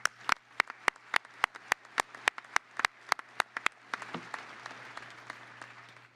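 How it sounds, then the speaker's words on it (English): A few audience members clap at a university commencement ceremony: sharp, evenly spaced claps dominate at first, then loosen into softer scattered applause that fades out. "Another round of applause"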